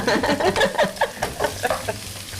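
Onion and sweet pepper sizzle steadily in a hot pan as they are sauteed, with close frying crackle and stirring scrapes, loud and continuous, without talk.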